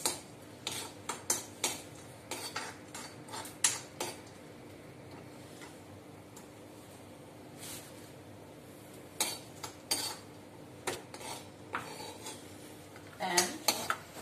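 Lightly roasted almonds scooped out of a pan with a metal spoon, giving scattered clinks and scrapes of metal on the pan in irregular bursts over a low background hum, close and fairly quiet; no talking.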